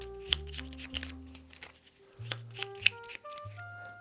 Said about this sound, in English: so we have to shuffle this deck.